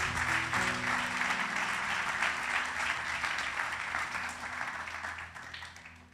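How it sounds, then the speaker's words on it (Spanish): A church congregation claps loudly for the Lord at an evangelical service, a dense, steady roar of hands lasting several seconds over low sustained keyboard tones, slowly fading toward the end. "fuerte aplauso al Señor"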